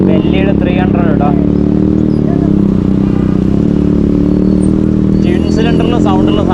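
A Benelli 300 twin-cylinder motorcycle fitted with an aftermarket exhaust rumbles steadily at close range, a loud continuous engine drone running throughout with occasional clatter.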